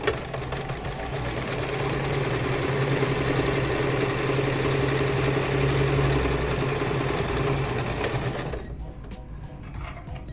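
A sewing machine runs a steady, continuous stitching whir with its presser foot set against shifted fabric. After about eight seconds it stops, leaving a few faint clicks.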